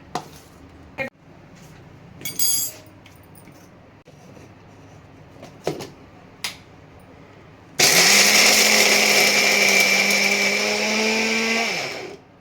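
A mixer grinder blitzes sesame, peanuts, roasted gram, cumin and garlic into powder. Scattered knocks and clatters come first, then a loud, sustained whirring grind runs for several seconds and winds down.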